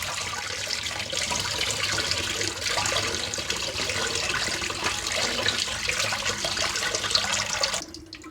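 Water runs steadily for several seconds, a continuous splashing rush like a tap pouring into a bowl of minced mutton being rinsed, then stops abruptly near the end.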